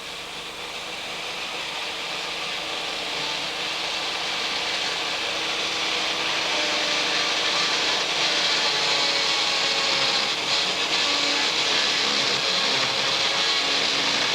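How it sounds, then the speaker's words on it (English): A power mortar rake guided along brick joints grinds out old mortar in one loud, continuous abrasive whine that builds slightly and holds steady throughout, with no voices. "The guides of the edges of the sole plate allow the operative to guide the mortar rake along the joint."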